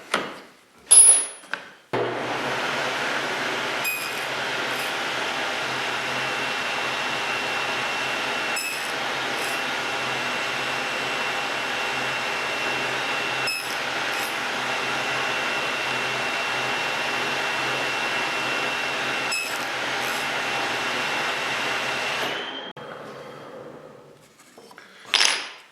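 Machine cutting notches into a division plate, a loud, steady whining roar running for about twenty seconds with faint periodic clicks, starting and stopping abruptly with short knocks at each end.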